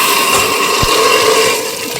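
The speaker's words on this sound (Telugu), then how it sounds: "ఒకసారి మోటార్ ఆన్ చేసుకుందాం." A water pump motor, with coconut oil just added, runs steadily with loud rushing water and a constant droning whir that stays close and unbroken, with one brief thump.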